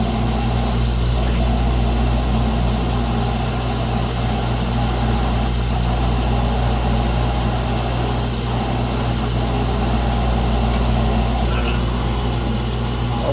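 A drill press cross-drilling holes in a brake rotor runs with a steady, loud motor hum and low droning tones, continuous for the whole stretch with no clear breaks.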